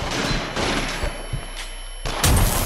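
Shotgun blasts from the VR horror shooter Until Dawn: Rush of Blood, several loud booming shots in quick succession amid game noise, without talk.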